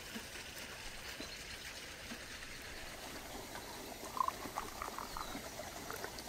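Water simmers and bubbles in a samovar brewing tea outdoors in a mountain nomadic village, a steady soft hiss with faint gurgles and a few small clinks.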